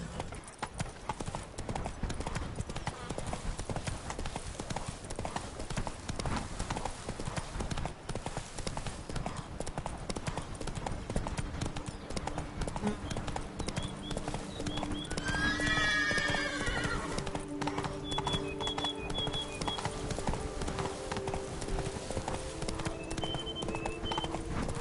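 Roach the horse gallops in The Witcher 3, steady hoofbeats clip-clopping throughout, with a whinny partway through and occasional game music and effects layered over the continuous ride.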